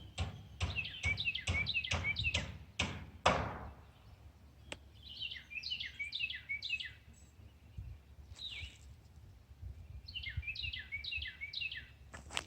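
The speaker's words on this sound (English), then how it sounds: "So you hear the bird in the background." A garden bird repeats a short, bright whistled phrase in two clear bursts, fairly near. A quick series of sharp knocks comes before it, and no one talks.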